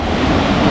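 Ocean waves surging onto the beach at Biarritz, a steady loud broadband wash of surf with some wind rumble, filling the whole short moment without a break.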